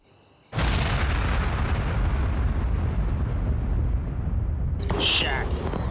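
Bombs from an air strike explode in one sustained, thunderous roar that bursts in suddenly after a quiet moment and rumbles heavily for several seconds, with a brief higher crackle near the end.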